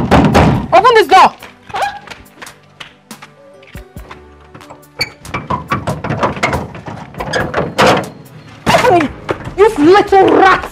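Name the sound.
banging and knocking on a door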